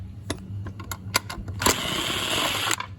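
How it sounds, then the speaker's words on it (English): Screws are taken out of a homemade M80 amplifier: sparse, sharp metallic clicks and taps, then a short whirring buzz with a rattling scrape before it stops. "I'm just gonna unscrew this thing real quick."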